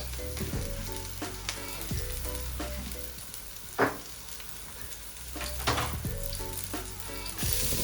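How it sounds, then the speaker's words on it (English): Chopped garlic sizzles steadily in a hot pan as the base of a prawn sauce, a close, continuous frying hiss with occasional louder crackles and stirring knocks, no voices. "Drop some chopped garlic."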